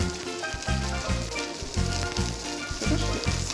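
Food sizzles and crackles in a hot pan, a continuous hiss with a low rhythmic thumping underneath.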